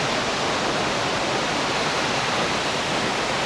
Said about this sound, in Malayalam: 2 സൈഡിൽ നിന്ന് വെള്ളം വരുന്നതാണ്